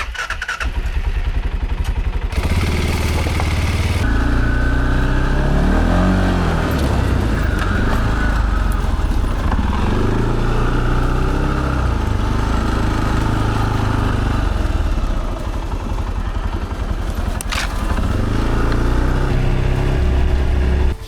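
An ATV engine idles, then revs up and down in loud, close bursts, settling back between throttle pulls, with no talking.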